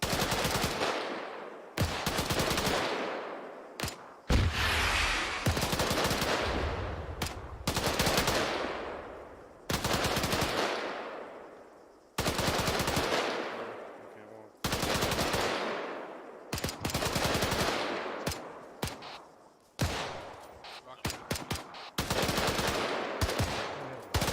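Machine gun fire in a military video game, long loud sustained bursts of rapid automatic shots separated by brief pauses, with no voices over the firing.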